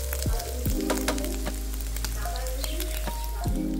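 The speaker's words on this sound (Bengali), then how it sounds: "তো খুব কড়া করে ভাজে না, হালকা হালকা একটু লাল হবে, লালচে করে ভেজে নেওয়া আর কি।" Paneer frying lightly in hot oil gives a steady, close sizzle with occasional scrapes and clinks of a utensil. A low, constant hum sits underneath, and no one speaks.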